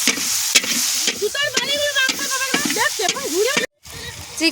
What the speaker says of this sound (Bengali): চিকেন কষা চলছে।